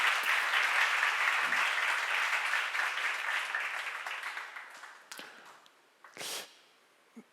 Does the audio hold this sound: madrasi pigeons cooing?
no